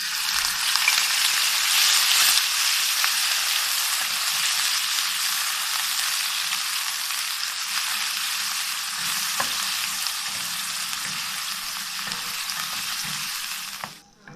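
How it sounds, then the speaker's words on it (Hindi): Chicken frying in a pan for chicken jalfrezi, giving a steady, loud, close sizzle that holds for the full length with occasional small pops and a few stirring clinks, with no talking. "इसके बाद हम चिकन फ्राई कर लेंगे।"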